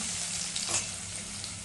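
Green paste, mustard seeds, cumin, asafoetida and turmeric sauté in hot oil, giving a steady close sizzle with one brief stir scrape in the middle.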